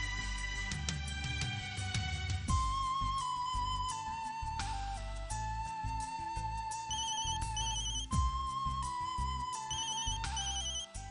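A phone ringtone plays a repeating electronic melody, loud and close, with no talking.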